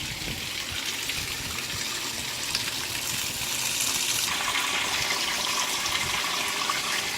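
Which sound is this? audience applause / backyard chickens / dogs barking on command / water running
water running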